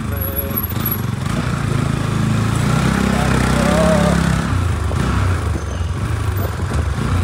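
A motorcycle engine runs steadily, a loud, continuous buzzing drone that rises slightly midway, with muffled voices in the background.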